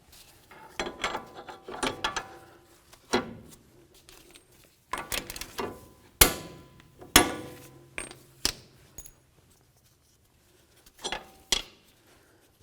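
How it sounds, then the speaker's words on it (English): Hand ratchet tightening the axle nut on a 2007-2017 Jeep Compass front strut assembly, irregular bursts of close clicking pawl strokes and metallic knocks separated by short pauses, with no talk. "we're going to continue on to tightening the nut until the very next slot lines up"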